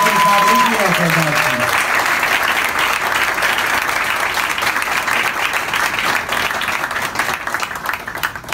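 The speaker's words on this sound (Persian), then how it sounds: "خیلی زیبا تشویق بفرمایید" A music school concert audience breaks into sustained, dense applause that fills the room from start to finish, with a brief sustained tone fading out at the very beginning.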